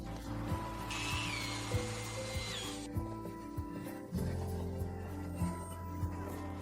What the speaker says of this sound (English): Attach a 4mm drill bit to the screwdriver and drill the outer plate at all the holes on the body side to 4mm.